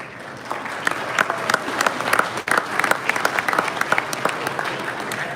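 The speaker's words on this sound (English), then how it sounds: "Round of applause for Mr. DeAngelo." A crowd at a Hot Wheels collectors' convention finale applauds a man called up front, a sustained roomful of clapping with a few sharper nearby claps and a brief dip midway.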